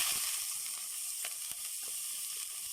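Ghee and fat sizzle steadily in a pan as the base for chicken noodle soup, a continuous close frying hiss with small crackles and pops throughout, no voices.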